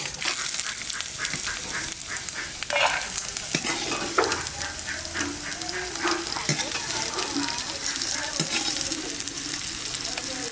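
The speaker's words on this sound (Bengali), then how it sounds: "বাদামটা ভাজা হয়ে গেছে, এবার তুলে নেব" Peanuts sizzle in hot oil in a pan while being stirred: a steady, close frying hiss with scraping stirs throughout and no talking.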